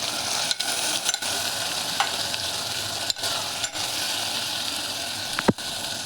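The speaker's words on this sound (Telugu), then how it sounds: "దీన్ని అన్నీ వేసాక చక్కగా కలిపెట్టుకోవాలి." A spoon stirs peas and mixed vegetables in a hot pan for vegetable biryani, keeping up a steady loud sizzle with a few scraping strokes and one sharp clack near the end.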